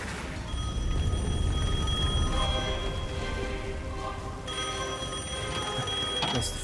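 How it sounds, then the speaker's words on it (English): A telephone rings during gameplay in the Devil May Cry 5 video game, with a repeating bell tone sounding over a steady, loud bed of game ambience and rumbling noise. "Phone still works."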